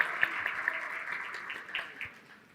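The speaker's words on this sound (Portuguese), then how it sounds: "uma salva de palmas para o Felipe Neto" An audience claps in a steady wash of applause that gradually fades over a couple of seconds.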